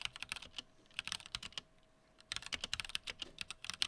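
Rapid clacky typing on a stock 1stPlayer MK8 Lite mechanical keyboard with Gateron switches, close up, in quick bursts with a brief pause midway; no voices.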